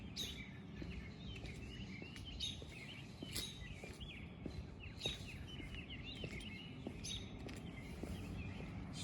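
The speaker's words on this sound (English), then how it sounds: "These birds are chirping sync as I walk by the corner of my old house." Faint bird chirps sound intermittently near the corner of an old house outdoors, small scattered tweets over a low steady rumble of ambient background noise.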